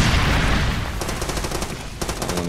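Rapid automatic gunfire rattles in bursts in the Far Cry 2 video game, sharp repeated cracks beginning after a low rumble and returning in a second volley, close and loud.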